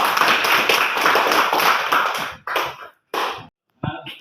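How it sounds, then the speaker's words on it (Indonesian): Classroom applause after a group presentation, loud close-up clapping from a small group that breaks into a few short bursts and then stops, with a brief voice near the end. "Tepuk tangan."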